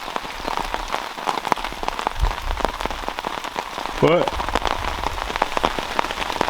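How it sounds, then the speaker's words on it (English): Steady rain patters on a tarp at a cottage on an Algonquin fishing trip, a dense close drumming of drops throughout, with a brief spoken word over it. "Because rain, you expect rain and a trip into Algonquin."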